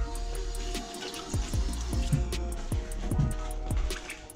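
Running water splashes and trickles steadily while food is rinsed, with a few soft knocks and clicks nearby.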